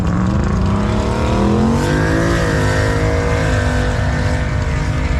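A loud drag race car engine roars steadily and climbs in pitch as it accelerates hard down the strip at Byron Dragway, close by and continuous throughout.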